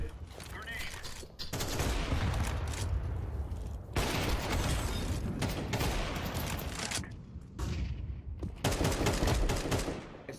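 Sustained gunfire in Counter-Strike 2, dense bursts of rapid automatic shots that fill most of the stretch with a few brief pauses, loud and close, while players talk over it.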